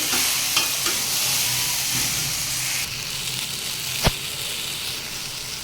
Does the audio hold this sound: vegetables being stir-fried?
yes